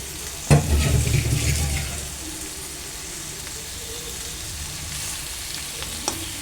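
Soaked chicken drops into hot oil with onion pieces and sizzles loudly at first, with stirring scrapes, then settles into a softer steady frying hiss.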